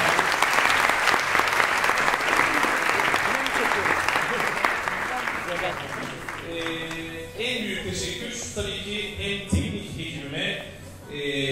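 An audience applauds at a school theatre performance with loud, dense clapping for about six seconds. The clapping then fades under music and voices.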